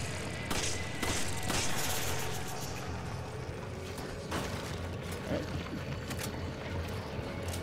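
Shotgun blasts and mechanical clatter from the video game Resident Evil 5 sound in a few sharp bursts over a busy, rumbling game-audio background, at moderate loudness.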